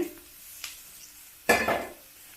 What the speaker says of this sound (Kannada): ಇದಕ್ಕೆ ಬೆಂಡೆಕಾಯಿ ಹುರಿದಿರೋದನ್ನ ಹಾಕ್ತಾಯಿದ್ದೀನಿ